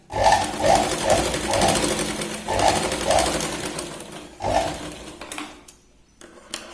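A sewing machine stitches tucks on a Katori blouse in several quick bursts, with short pauses between runs and a brief near-silent gap toward the end.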